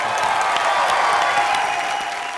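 A studio audience at a live comedy show breaks into dense, loud applause and cheering, a continuous wash of clapping that carries through without a break.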